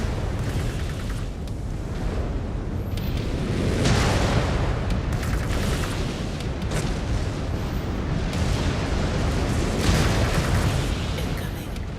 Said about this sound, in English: Incoming missile. I don't like being missiled.